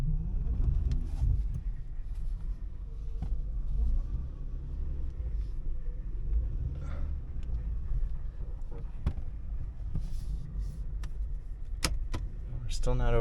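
A 2014 Honda Pilot with a swapped engine drives down a road, its steady low engine rumble and road noise continuous throughout, with small rattles and clicks from inside the cabin.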